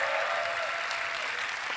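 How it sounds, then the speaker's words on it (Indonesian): A studio audience at a post-debate show for the 2024 Indonesian presidential and vice-presidential debate applauds in a dense, steady wash of clapping that holds evenly for about two seconds. "Saya minta tepuk tangannya dulu pada malam hari ini."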